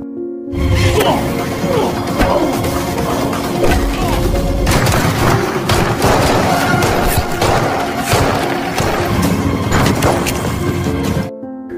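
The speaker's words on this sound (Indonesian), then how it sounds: "Sempat terjadi baku tembak, namun lagi-lagi Smith berhasil kabur dari kejaran Daniel." A film shootout with dense, loud gunfire and booming explosions that continue almost unbroken, layered with crashes and impacts, with a voice speaking over the action.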